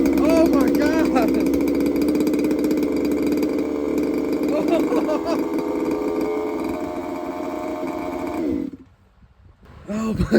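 A used Redcat Rampage XT 1/5 scale RC truck with a new carburetor runs its small gas engine loudly up close, buzzing and revving unevenly before cutting out briefly and sputtering again, with a voice over it.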